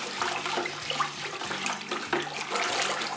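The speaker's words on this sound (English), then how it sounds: "So I'm using a wooden paddle here just to get it moving." Wooden paddle stirring ceramic glaze for cone 10 firing, a sloshing, churning liquid swirl with rhythmic strokes, moderately loud and close, with no voices over it.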